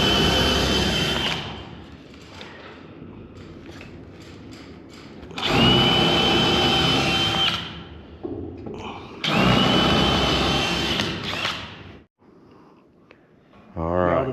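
A power drill bores into hardwood during a dump bed build, in two loud sustained whining bursts separated by pauses, with people talking close by in between.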